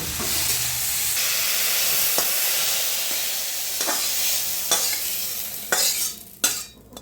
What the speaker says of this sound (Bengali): থোরটা আলুর সঙ্গে নেড়ে নিয়েছি, নামিয়ে নেব।